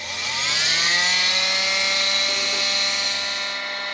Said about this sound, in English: You can see that it's oscillating back and forth like this.